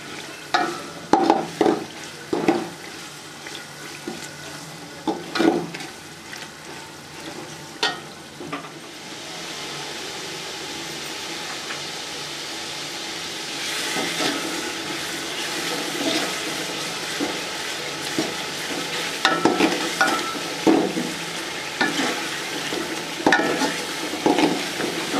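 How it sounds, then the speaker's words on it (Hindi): Biryani masala frying in a pot, with bursts of scraping and stirring over a steady sizzle, long stretches of continuous hiss between clusters of clanks, near and moderately loud, with no talk. "फ्राई करेंगे।"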